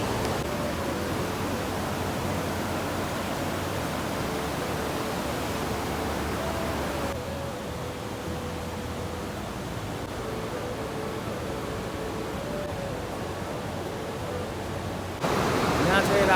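Steady rushing water from a stream beside Radha Kund and Shyam Kund at Govardhan, a broad constant wash that holds level for the whole stretch and swells louder near the end.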